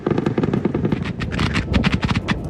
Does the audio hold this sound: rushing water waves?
no